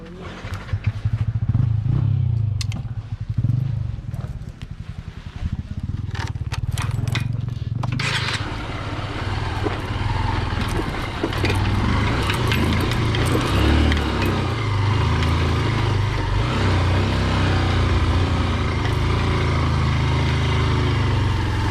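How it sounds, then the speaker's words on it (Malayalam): A motorcycle engine revs and throttles continuously on a rough route near Ulupuni, loud and close, with rattling and clatter over the steady drone and brief voices early on. "നമ്മൾ മെല്ലെ ത്രോട്ടിൽ കൊടുക്കുക മെല്ലെ ആ ത്രോട്ടിൽ"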